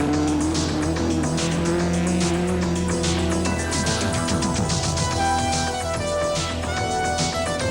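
Rally cars race along narrow roads in a 1989 event, including a four-wheel-drive Toyota Conquest. Engines rev loudly and continuously, with repeated gear changes and tires squealing, all without speech.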